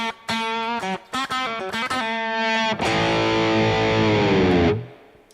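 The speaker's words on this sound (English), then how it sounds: "Back to distortion again." An electric guitar with heavy distortion plays choppy chords, then rings out a sustained, gritty chord that cuts off abruptly.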